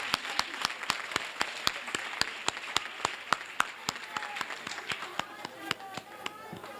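Rhythmic unison clapping from a crowd at a South African launch event for 16 Days of Activism against violence toward women and children, sharp evenly spaced claps over a murmur of voices.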